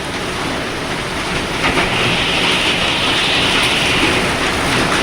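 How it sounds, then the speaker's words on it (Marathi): Heavy rain with falling hail pours in a steady, dense roar with no break, loud and close, with no voices. "भरपूर गारा पडत आली भरपूर एक मिनिटात विकत आणि भरपूर गारा पडते"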